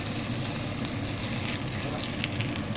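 Roast pork caramelizing in a pan gives a steady, close, dense sizzle and crackle that runs unbroken throughout, with no talking over it.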